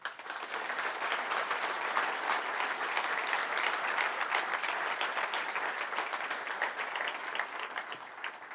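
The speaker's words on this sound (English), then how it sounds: "Please join me in one more round of applause for this class" Sustained audience applause honoring an engineering class at an evening centennial celebration, dense and even clapping that stays at a steady level throughout, heard without talk.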